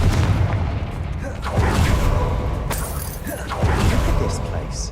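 Explosive spell blasts from the Confringo spell in the Hogwarts Legacy video game hit as several booming impacts with crackling debris, spaced about a second apart and loud up close.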